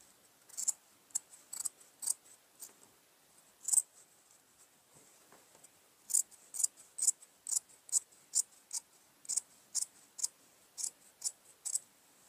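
Scissors snip the seam allowance on a denim jacket in a run of crisp, close clicks, a few spaced cuts and then a steady rhythmic series, with no talk.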